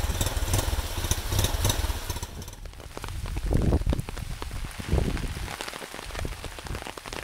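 Heavy rain falling steadily on the way to a village in the South Rupununi, Guyana, a constant loud hiss with some engine-like rumble underneath, no voices.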